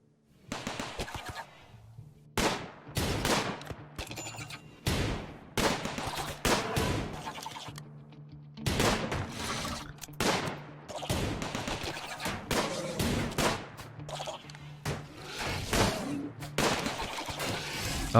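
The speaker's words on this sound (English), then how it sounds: "Now the turret will start fighting." Automated turret in the video game RimWorld opening fire during a fight with insects from an ancient hive, giving repeated bursts of rapid gunfire with short pauses between volleys, loud and sustained.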